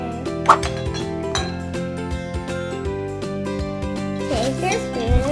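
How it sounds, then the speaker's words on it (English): A spoon clinks against a glass while stirring baking soda for a kids' dancing-rice experiment, giving a few bright close taps under steady background music. "Take your spoon and stir it like this."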